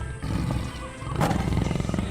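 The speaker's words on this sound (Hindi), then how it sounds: "अचानक झाड़ियों से बाघ की डरावनी गर्जना गूंजती है।" A tiger roars from the bushes in an animated story, a loud, deep, growling roar that rises and rolls on for about two seconds with nothing else heard.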